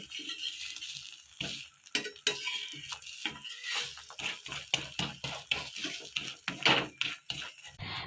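Egg roll cooking in a pan at home, with repeated scraping and clinking of a utensil against the pan over a low sizzle, close and steady with short pauses.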